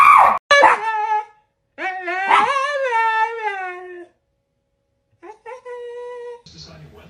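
A dog gives a series of drawn-out, whining howls and yips aimed at a cat, loud and close, with short pauses between the cries and a brief rustle near the end.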